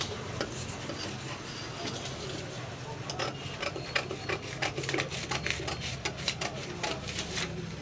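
Scissors snip through blouse fabric while sleeves are cut, a run of short crisp cuts in the second half that sits over a steady low room hum.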